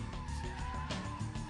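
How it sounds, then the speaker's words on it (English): A BMW Z3 M Roadster power slides, its tyres skidding with a sustained squealing whine over the low hum of the engine, close and steady. "The power slide through a bend."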